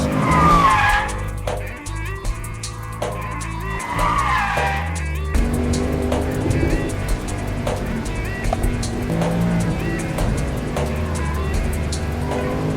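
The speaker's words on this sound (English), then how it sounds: "The engine is phenomenal. I mean, listen to it. It sounds fantastic." A Mercedes-Benz AMG Black Series engine roars and revs hard with tires squealing and skidding, loud and close, with no talking.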